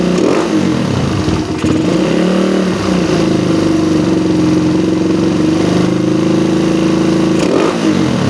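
A motorcycle engine tuned with a PE PWK carburetor revs up strongly and holds a high, buzzing pitch, then drops back briefly before rising again; loud and close, with no voices.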